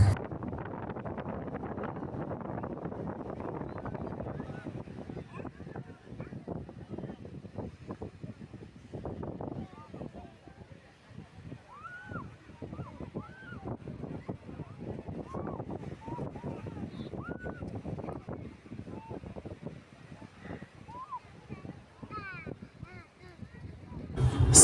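Strong wind buffets the microphone at Nyali Beach in Mombasa, a steady low rumble with gusts, while people talk and shout faintly in the background throughout.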